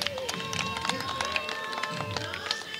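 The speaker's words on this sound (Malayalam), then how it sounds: "നമ്മുടെ കുട്ടിയൊക്കെ ഒരു കയ്യടി കൊടുത്തൂടെ." Applause for students after a patriotic song at a Kerala state school arts festival, with scattered claps and murmuring crowd over lingering tones and nearby talk.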